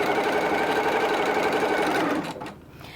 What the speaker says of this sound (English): You remove the clip and sew on.